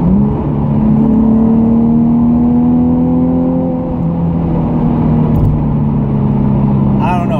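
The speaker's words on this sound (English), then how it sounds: "put less sound insulation in it so I can hear the engine" A steady, loud Nissan 370Z Nismo engine drone with a slowly shifting pitch, heard from inside the moving car, with a brief rattle near the end.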